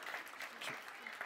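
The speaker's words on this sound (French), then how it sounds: "On peut l'applaudir." A short burst of faint, distant audience clapping, thin and brief, with a voice faintly underneath.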